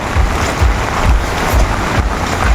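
Heavy flood-time rain pours down in a dense, loud, continuous wash, with gusty low rumbles pulsing through it.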